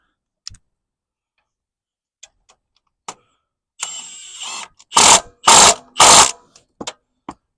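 A ratchet with a 17 socket tightens transmission mount bolts on a 2007 Mazda CX-9, heard as sparse clicks and then several loud bursts of rapid clicking up close.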